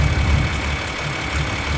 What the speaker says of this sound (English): what can you tell us about this high-tech tractor?